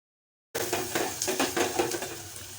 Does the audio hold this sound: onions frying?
yes